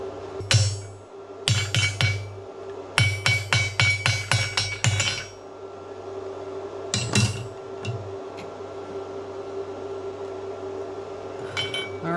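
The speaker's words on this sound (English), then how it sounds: "I'll break the slag off and we'll take a look" A metal tool chips slag off a fresh weld bead laid with a budget multiprocess welder. Sharp, ringing metallic strikes come in quick clusters, then a few scattered taps before it goes quiet.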